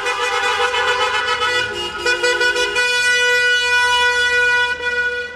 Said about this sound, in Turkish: Korna çalarak protesto ettiler.